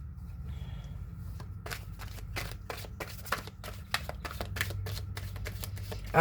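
Tarot cards shuffled by hand at close range, a rapid run of crisp riffling flicks that starts after a quiet moment and continues in a steady rhythm.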